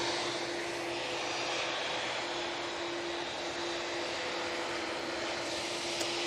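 A Qatar Airways Boeing 787-9 Dreamliner at Manchester Airport makes a continuous broadband jet engine rush with a steady tonal whine, even and unbroken throughout, with no voices.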